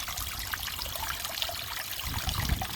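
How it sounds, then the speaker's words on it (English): Water streams down a garden pond waterfall with a soft, continuous splashing trickle, faint and steady with a slightly fuller gurgle toward the end. "Right, water is flowing good, just like we looked earlier."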